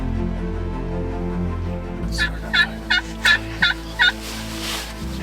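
Three big long-beard wild turkey gobblers on a property with decoys and blinds set out, giving a run of five or six loud, rapid gobbles close by over a low background hum.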